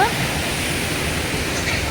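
The Hogenakkal waterfall roars as a steady, dense wash of falling water close by, with a faint voice mixed into the rush.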